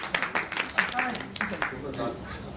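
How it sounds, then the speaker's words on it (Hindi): Audience applause welcoming poet Dr Keerti Kale to the stage at a Hindi poetry recital, a burst of scattered claps rising and thinning over a couple of seconds, fairly faint and mixed with some voices. "आप जोरदार तालियों से उनका इस्तेमाल करें"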